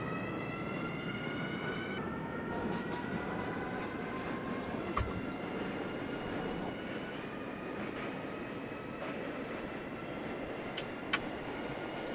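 New York City subway B and D trains arriving at a station, a steady rumbling roar with high metallic whining tones and occasional sharp squeals, continuous and fairly loud throughout.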